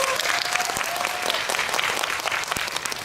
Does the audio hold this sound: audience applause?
yes